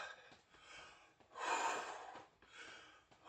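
Deep breathing during an arm rotation warm-up exercise: slow, audible breaths, with one long strong exhale in the middle and softer breaths before and after, close and alone.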